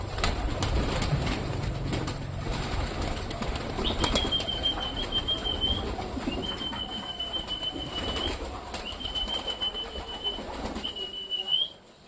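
Pet pigeons being herded indoors flap their wings in repeated flurries of fluttering, close by. Intermittent thin, high whistling tones sound over the wingbeats, and no one speaks.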